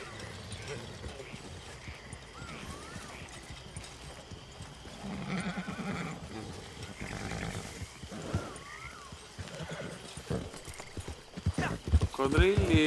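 A horse gallops in Red Dead Redemption 2, with steady rhythmic hoofbeats running through the whole stretch, joined by whinnies and snorts while people keep talking over the game sound.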